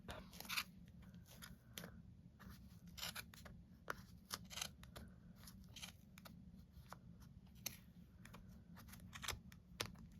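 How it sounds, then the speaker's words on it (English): Scissors snip through yarn in a series of quiet, crisp cuts, some single and some in quick pairs, over a soft steady background hum. "So, snip, snip, snip, snip, snip."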